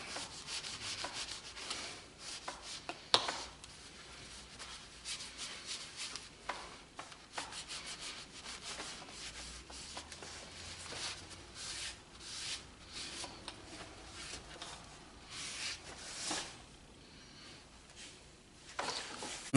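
Paint being buffed off a laser-engraved glass Christmas ornament: close, irregular rubbing strokes with bursts of scrubbing friction, loud and continuous across the whole stretch, with no talking.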